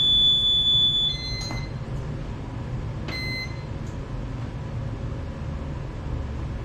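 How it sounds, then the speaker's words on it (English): A shrill electronic alarm tone from a fire sprinkler valve tamper switch sounds at the start and cuts off after about a second, during a partial trip test of a Victaulic 768 dry valve, leaving a loud steady mechanical rumble with faint clicks and beeps. "That was our tamper on the alarm"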